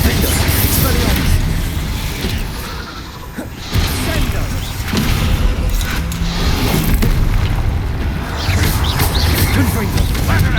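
Confringo blasting spells going off in Hogwarts Legacy, a run of loud booming explosions and crashes over busy game effects, with a voice speaking through the combat.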